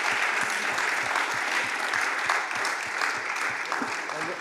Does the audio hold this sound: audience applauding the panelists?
yes